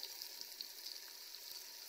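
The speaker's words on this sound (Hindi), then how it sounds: "अब इसको थोड़ा सा भून लेंगे।" Chillies, garlic and ginger fry in a pan with a steady, fairly soft sizzle and crackle that holds evenly throughout, with no talking.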